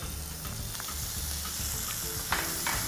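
Sliced onion sizzling steadily in hot oil for a vegetable pulao, a dense continuous crackle with occasional louder pops and light stirring, close and alone without talk.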